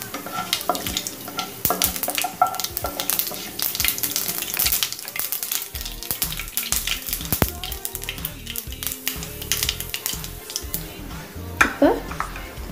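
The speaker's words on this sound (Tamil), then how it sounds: "இப்போ ஆயில் நல்லா ஹீட் ஆகிட்டு ஃப்ரெண்ட்ஸ், இப்போ நம்ம தாளிச்சிடலாம். கடுகு சீரகம் சேர்த்துக்கிறேன், நல்லா பொரிட்டோம்." Mustard seeds and cumin crackle and sizzle in hot oil, a busy, close spitting and popping with scattered sharp pops over a steady fry, alongside occasional clinks of a pan.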